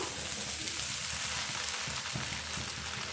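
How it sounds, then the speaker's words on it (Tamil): Egg chicken noodles are tossed and stir-fried in a hot pan, giving a steady, loud sizzle with faint scraping and stirring underneath. "பாருங்கள் இது போல் நல்லா தூக்கி விட்டு தூக்கி விட்டு மிக்ஸ் பண்ணிங்களேன்னா ரொம்பவே டேஸ்டியான நூடுல்ஸ் வந்து நமக்கு ரெடி ஆகிடும்"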